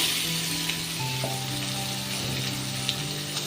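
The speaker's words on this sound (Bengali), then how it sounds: "পেঁয়াজটাকে ভাজা করে নিচ্ছি" Steady, loud sizzling of onion frying in hot oil fills the whole clip, with a faint low hum running beneath.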